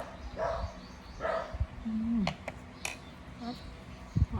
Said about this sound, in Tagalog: Ayan ang aso.